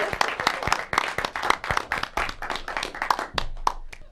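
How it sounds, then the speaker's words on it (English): A small group clapping at an annual meeting, a scattered round of applause with distinct individual hand claps, fairly close and lasting a few seconds. "please welcome to the podium, with a rich round of applause"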